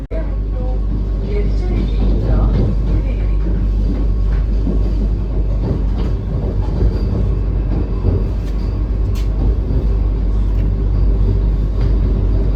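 A heavy, continuous rumble of the Vande Bharat Express pulling into a station in rain fills the space, steady and loud, with clanks and squeaks on top and a voice talking faintly beneath it.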